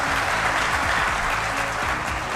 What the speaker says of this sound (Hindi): मैं जानता हूं कि आप ताली बजा रहे हो